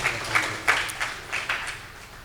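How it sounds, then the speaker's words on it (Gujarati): A seated audience at a religious discourse gathering claps in moderate, uneven applause with a few louder swells, fairly close and without talk. "એમને ફરીથી એક વખત તાળીઓથી વધાવીએ."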